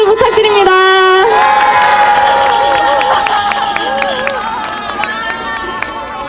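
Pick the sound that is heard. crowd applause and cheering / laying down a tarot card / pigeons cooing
crowd applause and cheering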